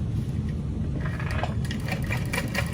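A sewing machine tacks a strap down to the metal hardware of a Betsy Bowler bag, giving a close, steady, rapid stitching whir throughout with no talking.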